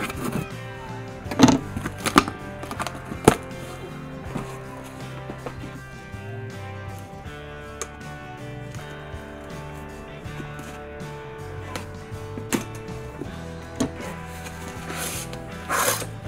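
A cardboard mystery box holding Funko Pop figures in protectors is cut open, giving close scraping, rubbing and crinkling with a few sharp bursts early on, then steadier low handling noise.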